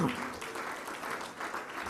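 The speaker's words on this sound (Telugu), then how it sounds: "చప్పట్లు కొట్టి దేవుని వైపరుస్తాం." A worship congregation claps together, a steady dense patter of many hands filling the space at moderate loudness, with no break in the applause.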